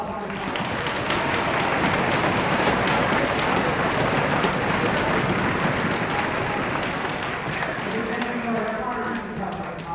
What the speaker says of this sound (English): Let's give a big round of applause for Chris Coffin.